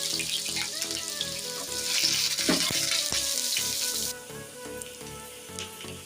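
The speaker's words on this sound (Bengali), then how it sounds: "আমি পেঁয়াজটা একদম বাদামি কালার করে ভেজে নেব" Onions and dried chillies frying in oil for a sour lentil dal with green mango, with a steady bright sizzle throughout that softens toward the end, along with faint clinks and stirring sounds.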